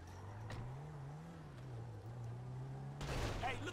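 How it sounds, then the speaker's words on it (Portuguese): A car engine in GTA 5 zombies mode hums and shifts pitch steadily in the background, then a louder burst of noise cuts in near the end. "ele trouxe um carro pra gente"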